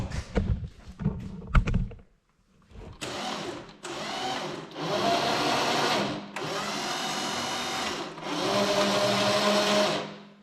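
An electric winch fitted to a John Deere 317 lawn tractor whines in three or four loud bursts of a few seconds each, preceded by clunks and clicks from its switch and solenoid; no talking.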